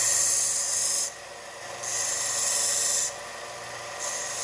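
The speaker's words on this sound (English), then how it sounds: "Your sander can be very aggressive. Depends on how worn your belt is." A belt sander grinding down a stone inlay set in wood, a close, harsh rasp that surges and drops in alternating passes with no one talking.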